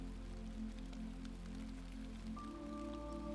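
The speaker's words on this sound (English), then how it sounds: "The rain is falling gently now, soft and steady on the porch roof." Soft, steady rain falls on a porch roof in a quiet, even patter with a low continuous hum beneath it, and no voices.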